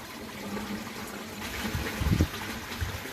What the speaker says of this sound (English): That's seeing the automatic siphon in action.